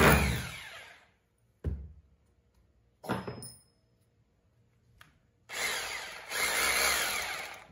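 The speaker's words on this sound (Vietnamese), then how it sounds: "Đây là đục bê tông này." A three-function 220V concrete drill with variable speed and reverse runs in concrete-chiselling mode. It gives several loud, harsh bursts close by: a long run, short stop-start pulses, then a sustained rattling run near the end, with no voices.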